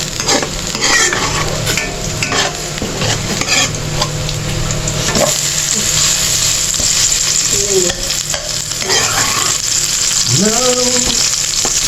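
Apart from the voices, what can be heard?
frying bananas in a pan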